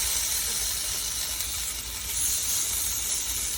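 Potatoes fry in a pan for a zucchini and potato Ukrainian stew, giving off a continuous broadband sizzle and hiss at a steady level with no talking.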